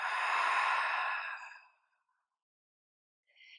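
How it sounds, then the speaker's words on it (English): A single open-mouth exhale during a gentle yoga flow, a breathy, sigh-like rush of air lasting about a second and a half up close, followed by silence and a faint short breath at the end. "Taking one more breath here. Open mouth exhale."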